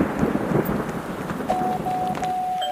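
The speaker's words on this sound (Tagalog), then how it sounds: "ba't may ice cream? Umuulan" Steady rain falls outdoors as a continuous wash of hiss and patter, loud and close, with a thin electronic tone sounding faintly over the later part.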